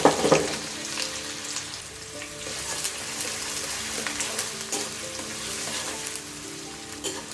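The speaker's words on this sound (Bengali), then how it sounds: "এগুলো হালকা বাদামি রং না হওয়া পর্যন্ত আস্তে জাল দিয়ে ভেজে নেব।" Onion, garlic and ginger fry over low heat in a generous amount of oil in a kadai, a soft steady sizzle with faint stirring scrapes after a louder opening burst, heard alone without talk.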